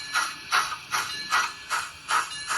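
Mantua 0-6-0 steam tank locomotive model number 1251, fitted with an ESU sound decoder, gives off a steady, rhythmic series of loud hissing chuffs, about six evenly spaced puffs with no talking.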